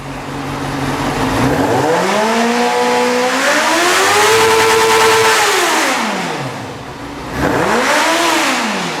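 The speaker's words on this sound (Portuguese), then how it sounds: "Eu vou elevar a rotação deste motor para analisarmos o valor." A car engine on an electronic fuel-injection training bench revs up from idle to high RPM, its pitch climbing and holding, then dropping back before a second shorter rev; loud, close and steady with no talk.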